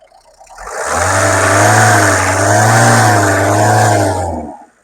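A car engine revs hard and steadily, a loud sustained roar that rises, holds for several seconds, then drops away.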